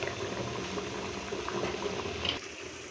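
A pot of tomato rasam bubbles and simmers steadily up close, a continuous busy burble that cuts off abruptly near the end.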